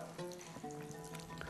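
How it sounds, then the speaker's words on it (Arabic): Chicken meatballs with olives fry in hot oil in a Tunisian kitchen, giving a quiet, steady sizzle with a few brief crackles over a short stretch. "الزيت بدا يسخن باش نبدا نقلي فيهم بشوية بشوية"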